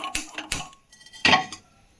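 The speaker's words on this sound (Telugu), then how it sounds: "కడాయి పెట్టుకుంటున్నాం." A kadai pan is set down on a kitchen stove, giving a few sharp metallic clanks and knocks close by, with a short pause before the last louder clatter.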